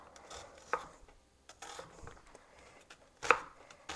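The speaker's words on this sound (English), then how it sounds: "I'm going to slice up an onion." A knife slices through an onion on a cutting board with several separate chops, some sharp and louder, spaced irregularly and close by, with no talking.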